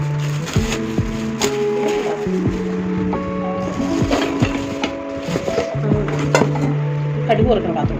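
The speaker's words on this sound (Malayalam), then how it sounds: "കടുക് വറുക്കുന്ന പാത്രം." A metal mustard-tempering pan being unboxed and handled, with repeated sharp metallic clinks and knocks at close range under a steady bed of background music.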